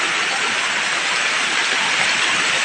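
Heavy summer storm rain driven by strong wind near an island coast, roaring as a dense, steady hiss that stays loud and unbroken throughout with no voices.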